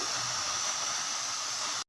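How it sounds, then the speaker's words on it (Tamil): Steam escapes from a pressure cooker cooking rice on the stove, a steady close hiss that runs evenly and then cuts off abruptly. "தண்ணி வெளியில் வர்றதோடு ஸ்டீம் வருது பார்த்திங்களா"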